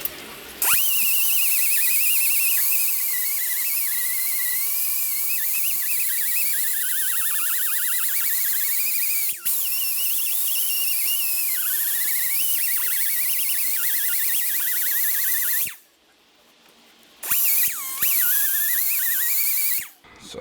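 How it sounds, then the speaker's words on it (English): A sustained high-pitched mechanical whine of a Scotch-Brite pad cleaning a metal differential part, steady and loud for long stretches, with brief pauses and a short break near the end. "So for that, we just used a Scotch-Brite pad."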